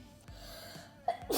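A single quick sneeze bursts out near the end after a brief intake of breath, close and fairly loud against a quiet room.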